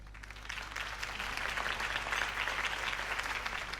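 Crowd applause follows a campaign speech in the video game Batman: The Telltale Series, a steady, dense clapping from many hands that holds at an even level over a low background hum.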